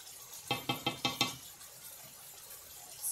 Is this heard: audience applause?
no